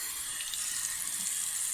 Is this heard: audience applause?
no